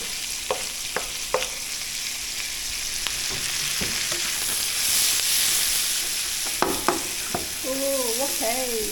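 Onions and peppers shallow-fry in oil, a steady close sizzle with occasional clanks of stirring and tossing in the pan, and brief voice sounds near the end.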